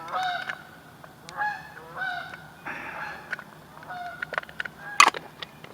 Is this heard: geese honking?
yes